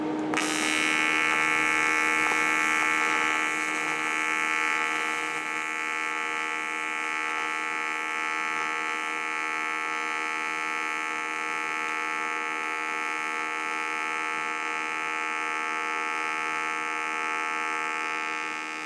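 A TIG welding torch arc on reversed polarity gives a steady electric buzz with sharp tonal whine, loud at the start and then settling into a constant hum.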